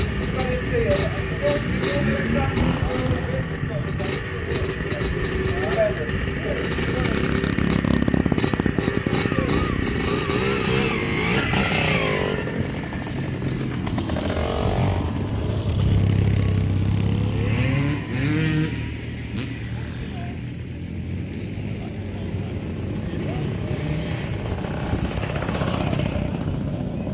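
A 1979 Honda Scrambler motorcycle engine runs at an outdoor steam and vintage show, a mid-pitched engine drone that rises and settles, partly under people talking nearby.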